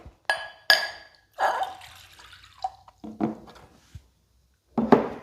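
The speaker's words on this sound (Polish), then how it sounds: "Wlewamy do miski szklankę wody." A glass of water is poured in several short splashing bursts into a bowl, with clinks of glass and brief pauses between pours.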